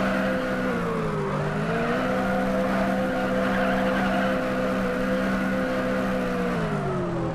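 Drift cars in the video game Uncrashed slide with a steady, droning tire squeal over a constant engine tone whose pitch dips and returns, loud and continuous with no talk.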